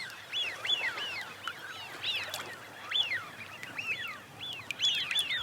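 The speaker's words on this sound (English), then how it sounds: "for these Eurasian widgeons, it's time to replenish their reserves after a long journey" Eurasian wigeons on the Chilika lake wetland give repeated rising-and-falling whistles, several birds calling in quick overlapping bursts at moderate distance against a quiet background, with no talk.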